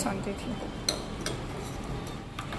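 A spoon stirs cold cocoa drink in a container, making light clinking taps against the sides at an irregular pace, fairly close and soft against a steady background.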